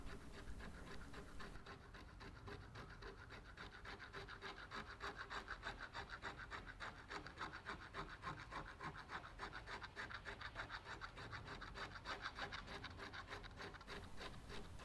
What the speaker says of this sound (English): some quick motions with the blade that I previously dulled gets rid of all of that adhesive without taking any of the canvas with it